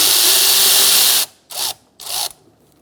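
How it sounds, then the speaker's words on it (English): Power ratchet on an 8mm socket loosening a radiator hose clamp on a 2007-2017 Ford Expedition 5.4L V8, one long whirring run followed by two short bursts, close and loud. "We're going to remove our top radiator hose using an 8mm socket for the hose clamp."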